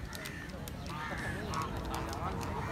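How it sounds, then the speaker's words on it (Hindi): Ducks quack and honk repeatedly at a moderate distance at the Sindh Governor House, with people talking over them throughout. "अरे सिंह गवर्नर हाउस में बत्तख भी बोल रहे"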